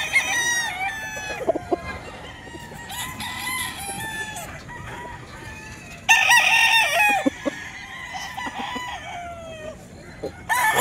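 A young White Kelso gamecock stag crows repeatedly at close range, its harmonic calls rising and falling, joined by other roosters crowing around a gamefarm, with faint background voices.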